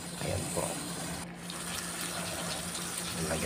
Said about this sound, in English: Lagyan po natin ng tubig na 1/2 cup of water